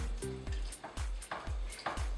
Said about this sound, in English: we just start stirring it up